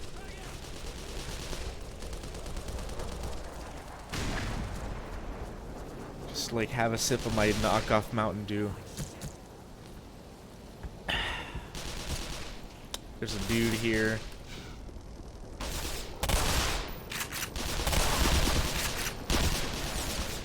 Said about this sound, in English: Just sit back, wait for the gunfire to stop,